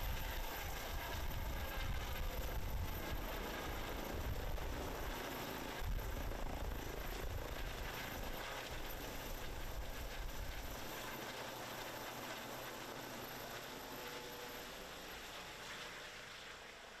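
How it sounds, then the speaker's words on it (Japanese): An air ambulance helicopter's rotors and engine whir steadily and loudly during a disaster drill in Fujiyoshida, Japan, the broad mechanical roar slowly fading as it lifts away. "ドクターヘリが離陸しました。"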